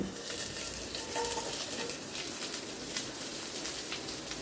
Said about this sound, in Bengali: পেঁয়াজ, টমেটো ওগুলোকে একটু ওলট পালট করে নেব।